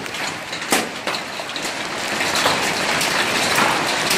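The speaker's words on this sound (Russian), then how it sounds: "Ну, это град прям серьезный." Heavy hail in Stavropol pelts down in a dense, continuous clatter, with a few sharper impacts standing out early before the roar thickens and grows steadier.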